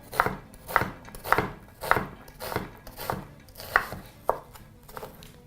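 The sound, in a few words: knife chopping onions on a board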